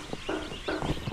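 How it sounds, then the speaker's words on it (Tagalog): Several chickens cluck in short bursts, close and moderately loud, over a busy farmyard background with constant broadband noise. "Dami nating manok."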